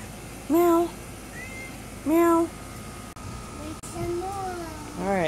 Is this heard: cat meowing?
yes